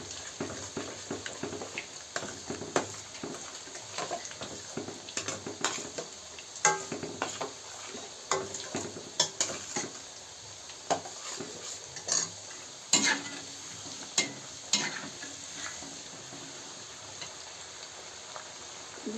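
Spices being stirred into elephant foot yam curry frying in a pot, a steady sizzle under repeated scraping and clinking strokes of a spoon against the pan, close and fairly loud throughout with no talking.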